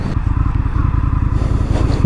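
An Indian FTR 1200 motorcycle cruising at about 2,200 RPM, its engine a steady, loud low pulsing rumble with rapid even firing beats and wind noise throughout.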